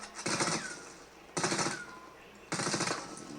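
Three loud bursts of gunfire in a CryEngine procedural destruction demo, each a dense rapid automatic volley lasting about a second, with short gaps between them.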